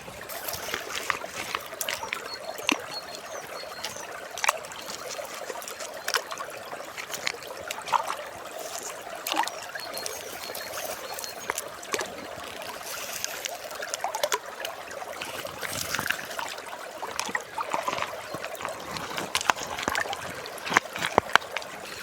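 Garden stream water trickles and babbles over round-edged stones, a steady continuous burble with small splashy flecks throughout, close and moderately soft, with no talking.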